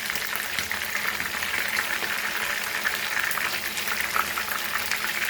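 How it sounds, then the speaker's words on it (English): Prawns frying golden brown in hot oil for tempura, a steady dense sizzle and crackle with no pauses, close and fairly loud. "But see that when you are frying it, fry it golden brown."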